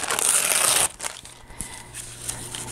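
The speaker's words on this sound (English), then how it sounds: "I just kind of ripped it." Paper is torn by hand for a rustic mixed-media travel journal page, a close, loud crinkling rip lasting under a second, followed by quieter rustling and handling noises.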